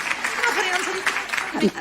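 An audience claps at an evening television show dedicated to Alex Oliveri. The dense, steady applause is heard under someone speaking Italian over it.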